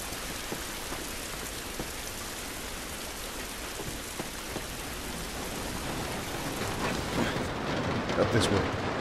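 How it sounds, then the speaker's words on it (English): Steady rain pours down in The Last of Us Remastered, an even broadband hiss with scattered drop hits that swell slightly toward the end and carry a few louder patters. "Rain ain't gonna do us any good."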